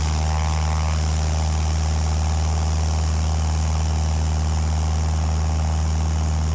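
A small single-engine plane's engine drones loud and steady at full takeoff power, with a strong low hum close by.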